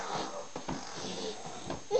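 A child imitates a grandmother's snoring with close, breathy, wheezy rasps in quick uneven pulses, a voice making the sound rather than real sleep.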